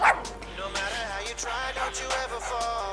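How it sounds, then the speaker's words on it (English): A dog barks and yips in a quick run of high, harmonic calls, close and fairly loud, within a television advertisement with voices alongside. "Dog"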